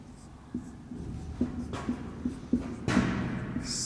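A teacher writes a lesson title, likely on a board, giving a series of short, faint scratching and tapping strokes in an uneven rhythm, close by in a quiet room.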